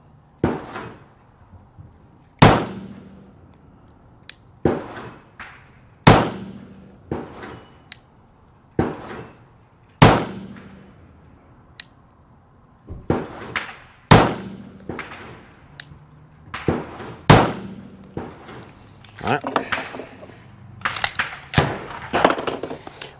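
A SIG P211 pistol fires bench-rested rounds in a steady series of sharp, loud reports, each decaying quickly, spaced a few seconds apart, with quiet handling noise between shots and no talk.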